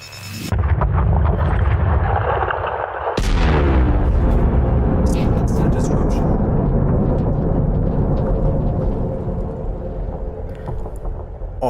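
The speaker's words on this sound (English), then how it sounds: "So now, just got to wait for it to blow up." An asteroid detonation from mining in the game Elite: Dangerous bursts with a sharp, loud blast, then trails into a long rumbling roar with crackling debris that slowly fades.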